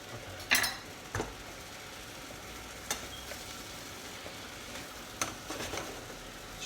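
Leek and garlic sizzling in a pan with a steady, low frying hiss, broken by a few sharp clinks and scrapes from a utensil against the pan.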